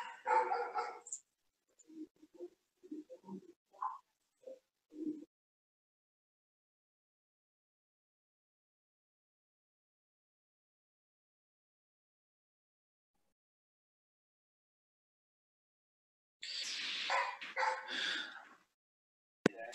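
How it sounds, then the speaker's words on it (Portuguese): A dog barks in bursts at the start, then gives a few quieter yips and whimpers. After a long silence a loud cluster of barks returns near the end, with no talking over it. "Alguém cala esse cachorro aí."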